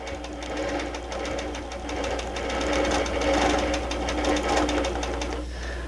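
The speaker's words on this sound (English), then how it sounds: "I'm going to lock my stitches back and forth here" A sewing machine runs steadily, stitching back and forth to lock the stitches while piecing a Flying Geese quilt block. Its close, even mechanical hum and rapid needle patter continue without pause, then ease off at the end.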